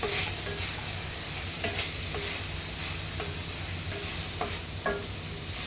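Chopped green chillies are stirred in a hot pan, a dense continuous sizzle broken by regular scraping strokes of a spoon, close and steady.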